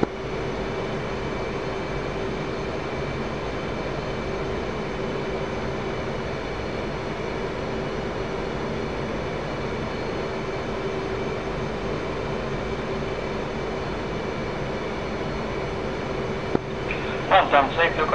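Steady jet engine roar from a military jet landing on runway 21 left in DCS World, a constant drone for the whole stretch with a few short ticks and clicks at the end.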